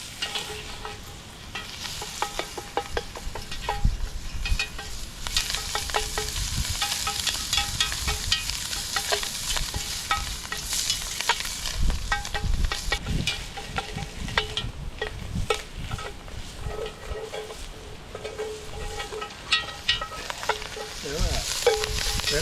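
Sausage sizzling and crackling in a cast iron Dutch oven over a campfire while a utensil scrapes and breaks it into crumbly pieces, the frying steady and close with intermittent stirring scrapes.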